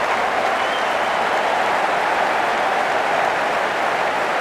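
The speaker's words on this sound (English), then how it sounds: "It's going to be hard for the bowler to focus with the crowd this excited." A large stadium crowd at an India versus West Indies T20 cricket match applauds and cheers in a steady, dense roar that holds level the whole time.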